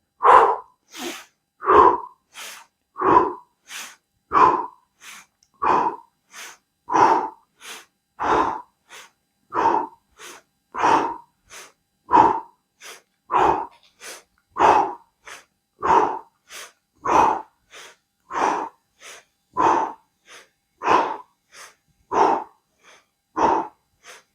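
Rhythmic pranayama breathing practice, about thirty sharp forceful breaths taken one after another at an even pace, loud and close with short quiet gaps between them and no talking.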